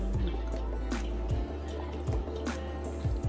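Soy sauce drips and splashes onto oxtail seasoned with garlic, pepper and ginger, giving soft, close wet patters in an uneven rhythm with no talking.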